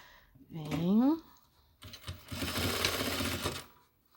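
A sewing machine runs in a steady burst as it stitches a pouch lining for a toiletry bag, following a short spoken remark and a brief pause, close and fairly loud.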